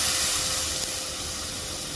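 Broken rice frying in hot oil, a dense continuous hiss and sizzle, close and fairly loud, with no voices.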